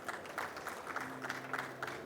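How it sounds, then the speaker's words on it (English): An audience at a KNX India ETS6 roadshow session applauds, a steady wash of many hands clapping at moderate distance, with faint crowd murmur underneath. "I would like all of you to give an applause for him for coming down."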